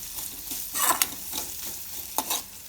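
Chopped onion and green chili frying in a pan with a steady sizzle, broken by several close scraping stirs of a spoon, moderately quiet and with no talk.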